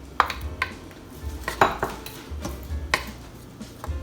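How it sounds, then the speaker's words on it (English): Sausages are dropped one by one into a metal cooking pan on a home stove, giving sharp clinks and soft thuds spaced about a second apart, with light clattering of cookware in between. "So I'm going to drop my sausages in here."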